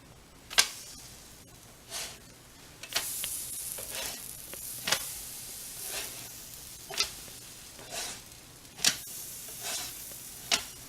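Oat and buckwheat pancakes sizzle steadily in a pan, with a soft continuous frying hiss broken by sharp occasional clicks and scrapes roughly every second, close and fairly quiet with no talking.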